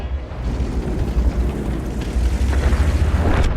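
A heavy booming tank cannon blast in a video game with rumbling low-end, followed by continuous explosive rumble and battle noise, loud and close.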